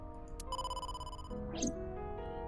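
A synthetic ringtone from the game AI: The Somnium Files rings in a steady, tonal electronic pattern, joined midway by a brief swooping effect.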